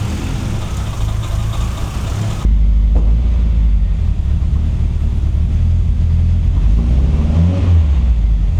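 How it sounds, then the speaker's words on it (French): A turbocharged 700 kg car engine runs rough at idle, loud and close, with a deep uneven rumble that jumps in level after a couple of seconds and keeps churning unsteadily. "Il y a des P à l'échappement, c'est chelou. Elle gratte, il y a un truc qui va pas."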